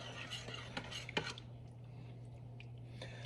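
Stuffed pepper casserole with ground turkey stirred in a cast iron skillet, with a handful of light scraping and clinking utensil strokes early on, then quieter, over a steady low kitchen hum.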